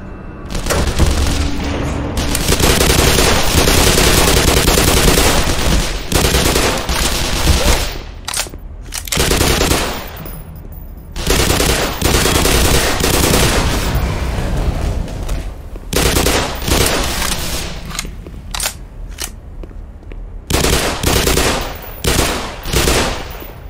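Sustained gunfire in the sci-fi shooter Black Mesa during a firefight: dense, loud bursts of automatic fire and heavy booms that rise and fall, with brief lulls between volleys and no voices.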